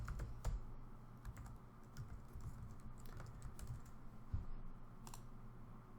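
Fingers type on a computer keyboard to sign in to an online account, a quiet, close, irregular patter of key clicks over a faint room hum.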